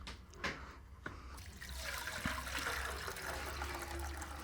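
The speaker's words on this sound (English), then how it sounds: "I've got hot water from the old kettle. We're gonna fill this up to the fill line." Hot water from an old kettle pours steadily into an ultrasonic cleaner tank as it fills, a continuous close splashing, trickling rush after a few brief clinks at the start.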